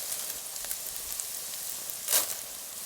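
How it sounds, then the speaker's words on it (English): Farro toasts in olive oil in a pan, giving off a faint, steady sizzle with small crackles and one brief louder spit near the end. "I like to toast my farro or even risotto together with the olive oil, almost like you're frying it"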